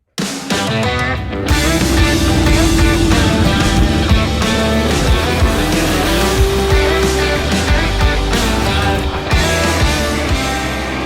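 A Ford Galaxie street car's engine roars loudly and continuously close by, holding a steady, heavy drone for several seconds with no voices.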